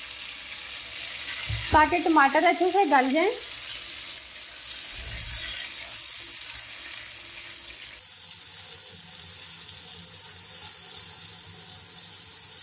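Water poured onto tomatoes frying in oil for a Kashmiri dum aloo potato curry sets off a continuous sizzle. The sizzle briefly flares partway through, and a voice speaks over it early on.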